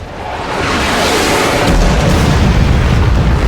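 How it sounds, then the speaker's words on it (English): Siege machines fire amid a battle in Lord of the Rings Conquest, a loud sustained roar of booming explosions and rumbling blasts that swells over three seconds with no voices. "The siege machines are firing!"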